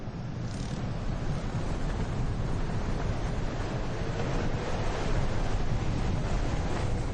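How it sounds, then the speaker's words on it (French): Strong wind roars over the coast at Essaouira in Morocco, a loud, constant buffeting rush that swamps the microphone with no voices. "Le vent souffle vraiment trop fort."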